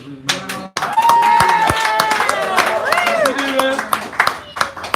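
At a San Francisco cafe poetry hour, a crowd claps with scattered, uneven clapping, mixed with loud voices and cheering throughout.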